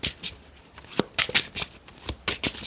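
Tarot cards handled on a table while one card is laid over another: a series of crisp, close card slaps and riffles in an uneven rhythm, fairly loud, with no talking.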